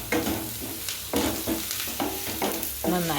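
Curry being stirred and fried in a pan for a simple Kerala-style charu curry, with a steady sizzle under repeated scraping strokes of a spoon, close and fairly loud, no voices.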